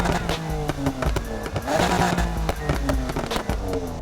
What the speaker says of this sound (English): That 3-liter straight 6, man.